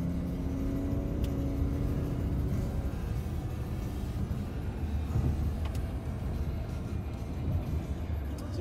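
A BMW 528i accelerating in sport mode, its engine building a steady low rumble heard from inside the cabin with road noise underneath, continuous and fairly loud throughout.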